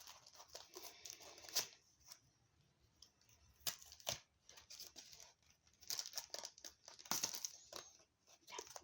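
Evolving Skies Pokémon booster pack wrapper being torn and crinkled open, quiet close foil rustles and sharp tearing bursts separated by short pauses.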